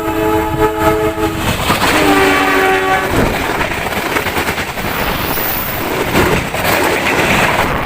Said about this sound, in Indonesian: suara ketika kereta mendekat itu akan terdengar lebih jelas daripada menjauh